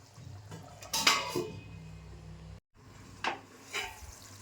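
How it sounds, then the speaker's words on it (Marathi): A lid goes onto a pot of brinjals cooking over a medium flame, with a metallic clatter and ringing clink, faint scraping and a low steady cooking hiss, followed by a couple of softer knocks. "आता मी थोडा वेळ झाकण ठेवते."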